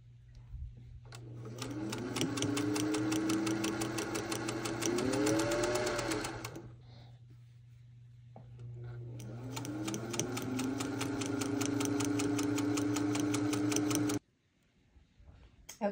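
A vintage Singer 201 sewing machine stitches pajama pant inseams and back stitches. It makes two long stretches of steady, rapid mechanical whirring, with the pitch rising and falling as it speeds up, and a short pause between them.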